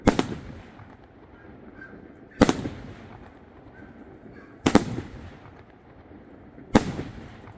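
A Gladiator SrPyro 38mm fireworks battery fires four loud, sharp blasts at roughly two-second intervals, each followed by a crackling, decaying tail over a low outdoor rumble.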